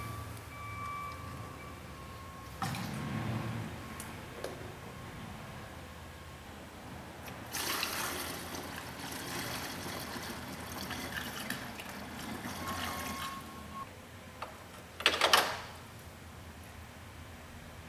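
Coolant trickling from a loosened bleeder on a GM 3800 engine, a faint continuous liquid hiss and dribble with a few louder spurts and handling noises, close and low in level.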